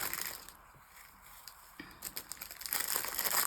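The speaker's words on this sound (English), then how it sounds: "Sorry about the crinkle" Plastic packaging from quilt show purchases crinkles and crackles close by, quieter at first and then a louder, denser rustle toward the end, with no speech.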